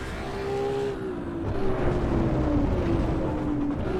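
A Ferrari race car engine in the racing game Assetto Corsa EVO roars continuously at high revs, its pitch drifting slightly between gears, loud and close with no talk over it.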